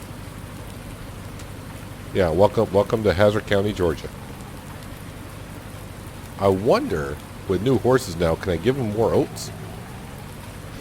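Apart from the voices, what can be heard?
rain falling in the video game Farm Sim 19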